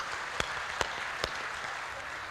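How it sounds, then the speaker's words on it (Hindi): Audience applause at a Hindi-speaking stage show, a soft wash of claps with three sharp louder claps standing out at regular intervals over steady background noise. "एक बार जोरदार तालियां आदरणीय गुरुवार के लिए बजा दियो।"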